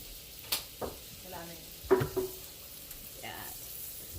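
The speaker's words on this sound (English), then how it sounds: "so we're just going to melt the butter" Butter melting in a hot wok on a stovetop while cooking garlic buttered shrimp, giving a soft, steady sizzle punctuated by a few sharp clinks and scrapes of a utensil against the pan.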